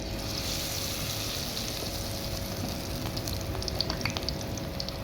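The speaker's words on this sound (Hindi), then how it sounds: "अब इसको हम करेंगे फ्राई।" Besan-coated cabbage roll pakodas frying in oil over a medium flame, with a steady, close sizzle and scattered crackling pops throughout and no voices.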